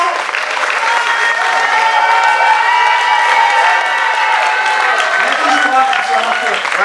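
A crowd claps loudly and continuously for improv performers at a festival show, with a host's voice and cheering carrying over the sustained applause.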